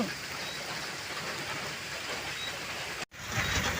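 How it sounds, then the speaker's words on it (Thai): Steady rain falls on a farm in a dense, even hiss, with a brief dropout near the end before the downpour continues. "ฝนตกสบายดีหลายพี่น้อง"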